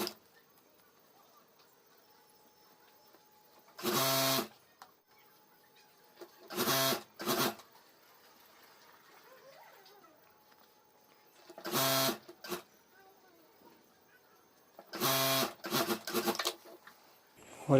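Sewing machine stitching fabric onto a zipper strip for a homemade school bag, running in four or five short bursts of a second or so, separated by quiet pauses with faint handling noise, close and moderately loud.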